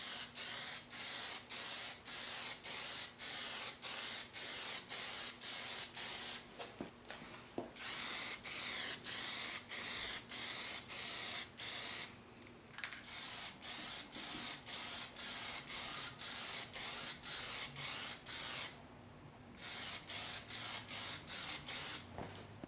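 Clear Plastidip being sprayed in short repeated aerosol bursts onto car headlights, close and loud, with a few longer sustained sprays broken by brief pauses.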